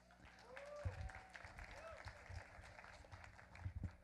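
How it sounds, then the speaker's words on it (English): Audience applauding a volunteer coming up on stage: faint, scattered clapping with crowd murmur, heavier low thumps and talk mixed in throughout. "Everybody give him a round of applause"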